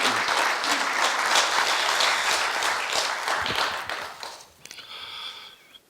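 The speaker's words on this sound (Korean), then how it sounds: "총장님께 큰 박수로 환영해 주시면 감사하겠습니다" A seated audience claps loudly and steadily to welcome a university president at an honorary doctorate ceremony at Korea University, then the applause thins into scattered claps and fades near the end.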